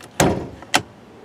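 Latch release and hood being lifted on a 2018 Toyota Camry SE: two sharp mechanical clunks, the first heavier with a brief rattle, the second a quick click about half a second later, close and clear with no talking.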